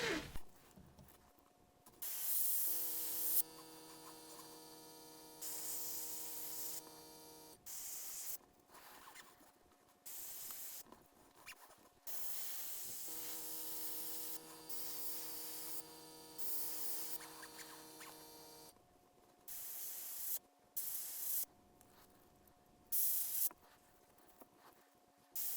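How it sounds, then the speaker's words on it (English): An airbrush sprays Vallejo Bonewhite paint in several hissing bursts, some long and steady, others short, with a faint electric hum from the compressor underneath and quiet gaps between bursts. "Airbrush don't get away from me"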